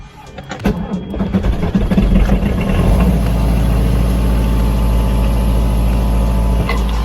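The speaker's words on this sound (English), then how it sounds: "I'm gonna go start the engine and keep an eye on the gauges" A boat engine cranks and catches, then settles into a steady, loud low idle that runs continuously to the end.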